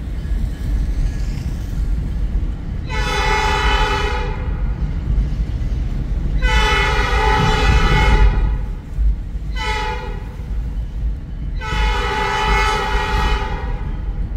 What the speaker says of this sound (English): Get the train in motion.